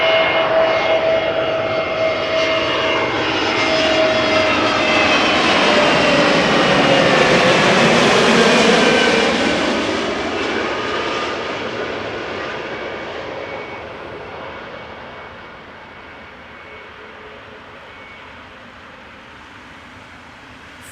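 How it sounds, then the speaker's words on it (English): Airbus A320neo airliner arriving from Geneva at Amsterdam Schiphol, a close jet roar that swells to a peak with sweeping whine tones and then fades away as it passes, with no talk over it. "A320neo arriving from Geneva."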